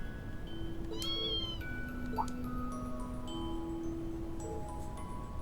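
Cat meows from the video game Trails of Cold Steel, several short distinct calls spread across the span over quiet game music, with no talking.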